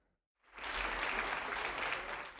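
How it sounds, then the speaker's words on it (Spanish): Applause greets the elderly poet Dolores Castro as she arrives at the Palacio de Bellas Artes, a steady, moderately distant wash of clapping that swells in after a brief silence. "Entre aplausos fue recibida su llegada al Palacio de Bellas Artes la poeta Dolores Castro"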